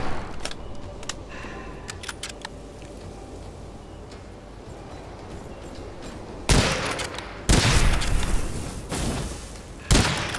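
Gunfire from the dark fantasy shooter Witchfire: a faint spell of clicks and rustling, then several heavy blasts and sustained bursts of fire in the later part, loud and near, with no voices.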